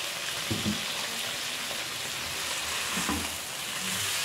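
Fajita vegetables for a chicken breast dish are left to wilt in a hot pan, giving a steady, fairly quiet broadband sizzle with a few faint knocks and stirs, no talking.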